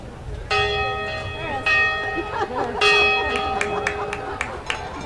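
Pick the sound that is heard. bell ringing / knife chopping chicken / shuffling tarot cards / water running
bell ringing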